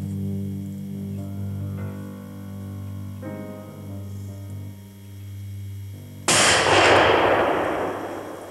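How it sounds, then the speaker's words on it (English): During a wilderness hunt, one sharp, loud hunting-rifle shot at a bull bursts out after several seconds of a steady droning hum, then its blast decays away. "The shot was a solid hit."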